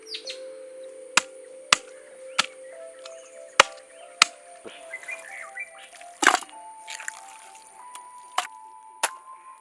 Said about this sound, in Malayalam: ഇനി നമുക്ക് ആ താറാവിറച്ചി ഒന്ന് കട്ട് ചെയ്തെടുക്കാം